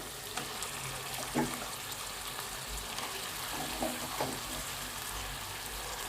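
Oil sizzling and frying in a pan while cooking gongura chicken, a soft continuous crackle with a few brief louder spits, close and fairly quiet with no talk.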